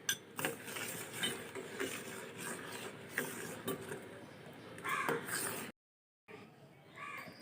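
A spoon scrapes and clinks against a pan while homemade sweet chili sauce is stirred with cornflour, a quiet, irregular series of knocks with a brief silence near the end.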